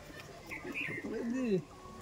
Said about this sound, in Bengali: বাহ, জ্যাক পায়রা দেখুন।